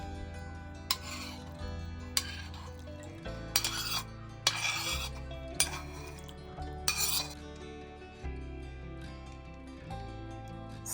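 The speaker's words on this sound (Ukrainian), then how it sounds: "далі виливаємо все, що залишилося на сковорідці: цибуля, жир, залишки печінки" A utensil scrapes and clinks against a metal frying pan in short strokes, close up, scraping out leftover onion, fat and liver, with occasional sharper knocks and rasping scrapes.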